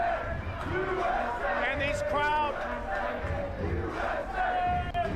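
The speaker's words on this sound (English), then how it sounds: "This place is going nuts." A large soccer crowd roars and chants nonstop after the USA beats Australia 2-0 in a World Cup match, with voices rising in loud, rhythmic cheers and a few words spoken over the din.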